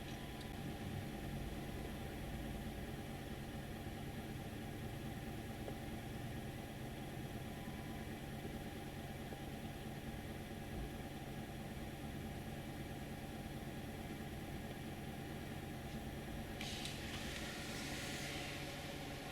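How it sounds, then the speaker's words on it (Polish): A warmed-up 2.0 petrol Honda engine idles, heard from inside the cabin as a steady low hum and drone, quiet and unbroken with no talk. "zmierzymy wartości na biegu jałowym przy rozgrzanym silniku."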